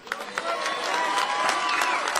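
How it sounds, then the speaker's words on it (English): Audience applause swells into continuous clapping with some cheering during a speech, dense and fairly loud with a few voices mixed in. "They're clapping."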